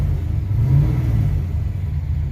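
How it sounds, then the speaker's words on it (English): A 1969 Chevy Nova coupe sleeper with a high-performance engine gives a loud, close, deep rumble that swells in a brief rev and eases back, steady and without voices. "we're gonna take it for a little test drive."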